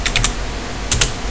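Quick keystrokes on a computer keyboard, three rapid taps followed by a pause and two more, close and crisp against a quiet room.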